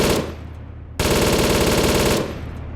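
Sustained automatic weapon fire in the military video game ARMA 3 Global Mobilization: a long, loud, rapid burst lasting over a second, with quieter distant shots and battlefield noise before and after.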